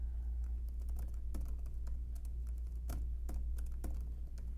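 Fingers tap out a short burst of keystrokes on a computer keyboard while entering a password, with irregular clicks over a steady low hum, close and clear with no talking.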